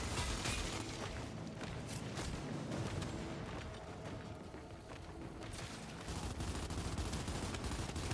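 Distant, fairly quiet gunfire from the video game Gears 5, a co-op boss fight on a bridge: a steady wash of rapid shots and bursts running throughout, with no talk over it.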